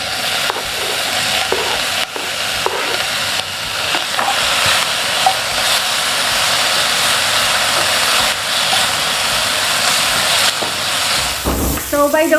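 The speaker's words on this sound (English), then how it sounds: "the pan is already hot. Let's put on our bacon." Small slices of bacon sizzle steadily in an already hot pan, a loud, continuous frying hiss with scattered crackles and pops, ending with a brief clatter of utensil against the pan.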